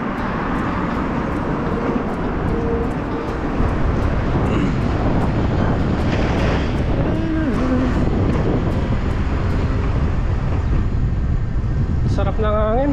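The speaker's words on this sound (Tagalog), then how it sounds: "Sarap ng hangin." Outdoor wind buffets a microphone in heavy continuous rumbling gusts, with someone talking over it and faint passing traffic.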